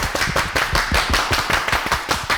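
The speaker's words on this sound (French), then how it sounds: "on va vous montrer que nous, on applaudit plus que vous" A group claps hands together in strong unison, a fast, regular rhythm of sharp, loud claps repeating steadily about five times per second with no talking.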